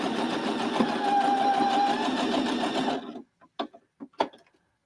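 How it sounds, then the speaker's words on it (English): A sewing machine stitches a beginner's quilt block in a steady whirring run for about three seconds, then stops, leaving a few short clicks and handling taps. "I'm going to sew it all the way around"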